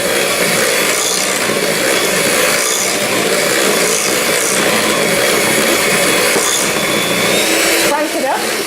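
An electric whisk whirs steadily on low speed through full fat cheese for a no-bake lime cheesecake filling, a loud continuous motorized drone held throughout.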